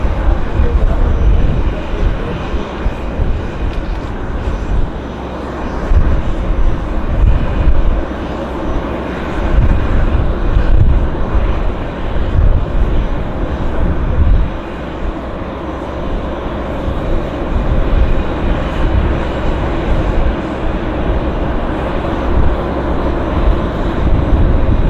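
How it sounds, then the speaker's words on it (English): WestJet airliner taxiing at Vancouver airport: a steady, loud engine rumble and broadband roar that holds throughout, with slight surges in level, and no clear talk over it. "we've got a WestJet taxiing in as well"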